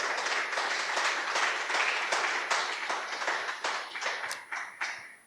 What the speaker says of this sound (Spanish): Dele otro fuerte aplauso al Señor